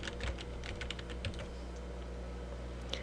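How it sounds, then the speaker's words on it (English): A computer keyboard is typed on in a quick burst of close, crisp key clicks, then a pause and one last tap, with a faint steady hum beneath. "type in the file name"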